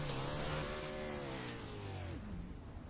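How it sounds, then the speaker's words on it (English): A 410 sprint car on a dirt track at Volusia roars loud and close, its engine pitch holding high and then dropping sharply as the driver lifts off the throttle. "You hear him go out of the gas"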